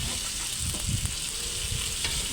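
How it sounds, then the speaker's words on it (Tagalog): Minced pork sautéing in a pan for spaghetti sauce, a steady close sizzle of frying with a few soft stirring scrapes, no voices. "Igisa na rin natin."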